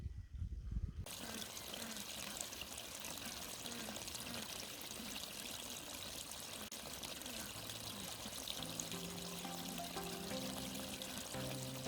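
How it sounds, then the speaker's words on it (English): Water from a garden waterfall runs and splashes continuously in a soft, steady wash with no talking. "the waterfall coming down. You can hear the water"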